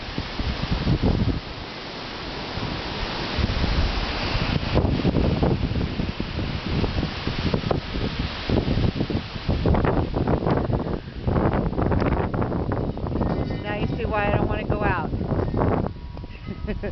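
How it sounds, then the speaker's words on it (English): Gusty wind buffeting the microphone with a rough, rumbling roar that surges and eases, while people talk underneath. "It's a little windy, huh?"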